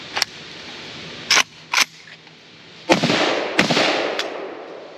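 A Polish PAC Pioneer AKM Sporter rifle fires single sharp shots outdoors, two or three spaced cracks, then two more shots followed by a lingering rumbling echo.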